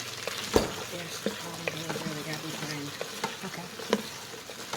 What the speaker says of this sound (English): Stirring the onions and the carrots.